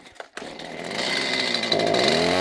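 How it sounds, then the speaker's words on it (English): A chainsaw with a badly worn blade, dulled from cutting into concrete, starts after a brief knock and settles into a loud, steady, high-pitched whine close by. "today's weapons of choice are impact driver and chainsaw"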